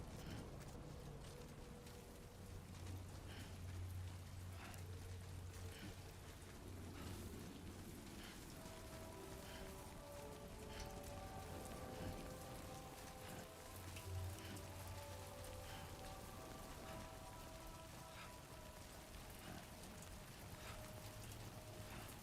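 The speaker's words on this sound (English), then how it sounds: "Why is it raining?" Steady rain patters in the video game Death Stranding 2 over a constant background hiss, with soft tonal sounds drifting in partway through; no one speaks.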